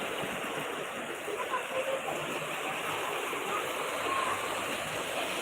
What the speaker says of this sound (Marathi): अशा वरच्या ब्रिजवरनं गाड्या गेल्या ना की पाणी पूर्ण खाली पडतं